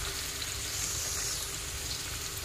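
Potato sabzi with browning onions and a panch phoron tadka sizzles and fries steadily in a pan while being turned over, a dense, even crackle with no talking.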